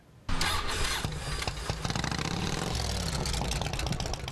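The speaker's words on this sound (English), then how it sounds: "The bikes are loud." Patriot Guard riders' motorcycles start up abruptly, engines catching and settling into a loud, rumbling idle close by, several bikes running together with no talk.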